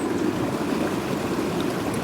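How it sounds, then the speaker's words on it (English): Stream water flows beneath an old bridge, making a steady, soft rushing murmur with no breaks across the short stretch. "The water flows that way."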